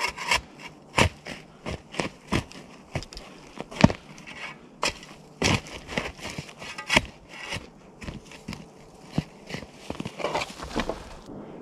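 Shovel digging into soft soil for a dugout shelter, a string of sharp scraping and chopping strikes at an uneven pace, close and fairly loud, with no talking.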